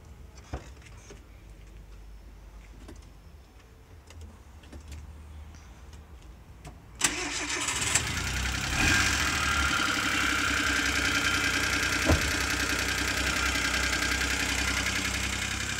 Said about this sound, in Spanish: simplemente se enciende el motor y se lo deja operar